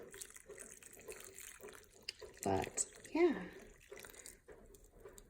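Water pours into a potted cannabis plant from a dispensary, a short splashing burst that stands out amid room noise, with a person talking over it.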